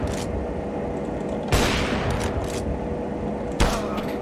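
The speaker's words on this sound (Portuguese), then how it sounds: "O cara sobreviveu a um tiro de Alp, mano." Gunfire from the video game Counter-Strike: Global Offensive: a few loud sharp bursts of shots stand out over a constant noisy game background, spaced a couple of seconds apart.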